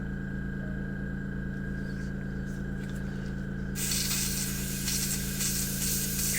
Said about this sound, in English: I'm just spraying air through the air gun, and I've loosened the needle up so I can just pull it back and forth